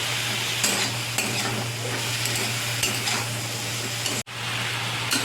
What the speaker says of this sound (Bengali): সবজিগুলো আমার একটু হালকা ভাজা ভাজা হয়ে যাচ্ছে